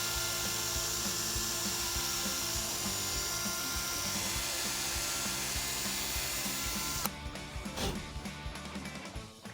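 A drill spins a sanding pad with 800-grit abrasive across a 1994 Ford F-150 truck headlight, giving a steady whirring grind that runs for about seven seconds and then cuts off, followed by faint handling noises.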